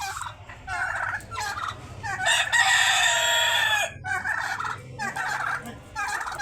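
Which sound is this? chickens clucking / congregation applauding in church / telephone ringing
chickens clucking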